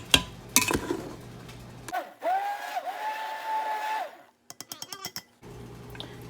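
An immersion blender running on high speed through peppers for hot sauce gives a steady whirring drone with a rising and falling pitch. Clatter comes before it, and a quick series of sharp taps follows.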